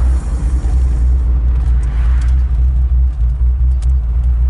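A 1994 Bondurant Mustang rumbles along on a slow test drive, a loud, close, steady low engine drone heard from inside the car with faint road noise and no talking.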